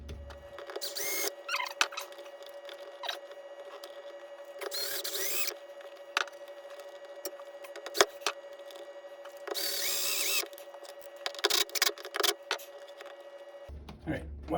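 Self-tapping screws are driven with a power drill while a new high water bilge pump is fitted in a 1984 Chris-Craft Catalina 381. Several short, loud whirring bursts stand out close by over a steady hum, with someone talking between them.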